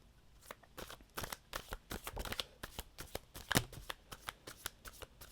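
Thin, slippery tarot cards riffle and flutter in a quick series of crisp shuffles, close and quiet, with no talking over them.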